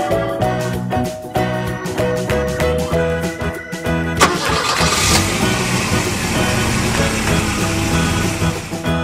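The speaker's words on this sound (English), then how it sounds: "Blue sports car." A sports car engine starts partway through, cranking into a steady, buzzy idle and rev, following a stretch of bright, tonal background music that continues faintly beneath it.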